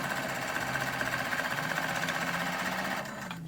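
A sewing machine stitches fabric for a throw pillow with a fast, even mechanical whir and rhythmic needle chatter close by, running steadily for about three seconds before slowing and stopping.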